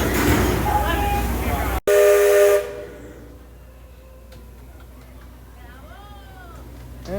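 Steam whistle of the Disney Rivers of America riverboat, a loud sustained blast at the start that stops abruptly, followed by quieter ambient crowd noise and faint voices.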